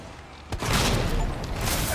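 A grenade explosion in Resident Evil 2 Remake, a sudden loud blast after a quieter lead-in that gives way to dense rumbling gunfire and debris.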